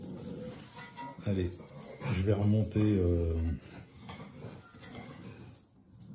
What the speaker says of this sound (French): Ne vous inquiétez pas, c'est mon chien qui s'énerve un peu.